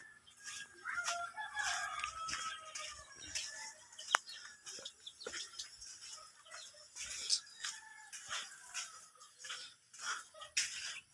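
Busy poultry sounds from several nearby birds, with clucks and short calls overlapping continuously and a sharp thump partway through.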